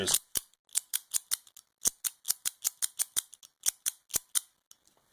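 Sharp metallic snaps as a Firecracker mini OTF knife blade fires one after another in an uneven, rapid series, close and crisp, with brief silent gaps between clicks.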